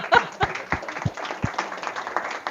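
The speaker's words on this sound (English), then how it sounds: "Would you please clap your hands for her?" An audience claps for a lecturer on ancient Greek myths, a short burst of scattered, uneven hand claps in a room, fairly close and without speech over it.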